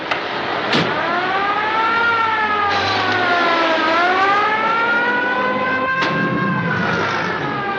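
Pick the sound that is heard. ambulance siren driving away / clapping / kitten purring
ambulance siren driving away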